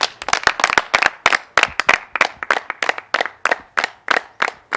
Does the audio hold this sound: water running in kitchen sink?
no